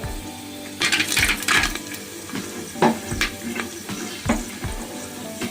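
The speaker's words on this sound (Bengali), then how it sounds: "কাজু কিশমিশ একসাথে দিয়ে দিচ্ছি, এগুলো একটু নাড়াচাড়া করে নিচ্ছি।" Cashews and raisins stirred in a hot pan for fried rice, with repeated close metallic scrapes and clatters of a spoon against the pan over a steady sizzle, no talk.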